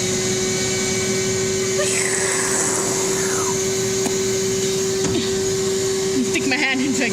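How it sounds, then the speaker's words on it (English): A vending machine's vacuum suction arm picking ice cream makes a loud, steady suction whine throughout with a constant mechanical hum, a sweeping tone shift in the middle and small clicks near the end. "Vacuum arm."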